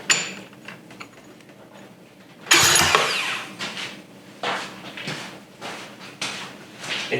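A go-kart engine is cranked over on a pull starter: a loud grinding, rasping surge, then repeated mechanical churning and creaking strokes, close up.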